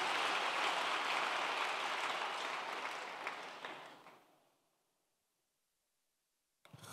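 A church congregation claps steadily, a broad wash of applause that holds loud for several seconds, then fades away to near silence before a brief rustle at the end.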